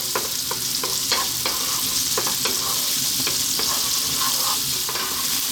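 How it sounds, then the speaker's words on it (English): Onions frying in a pan over fairly lively heat for a spinach saag curry: a loud, constant crackling sizzle punctuated by regular spoon scrapes and taps, no speech. "we're going to add our onion. We're going to let this go on a fairly lively heat for about 3 minutes"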